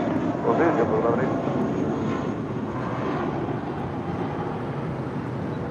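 A JetBlue Airbus A320 jet at LAX gives a steady, broad engine roar that holds at an even loudness throughout, with airport radio chatter in the background.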